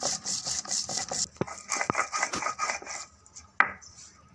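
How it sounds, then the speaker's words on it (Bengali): Peels are ground by hand into a fine paste with steady rhythmic rasping and rubbing strokes, pausing briefly before a sharp knock near the end. "ওইটাকে ভালোভাবে বেটে নেব মিহি করে।"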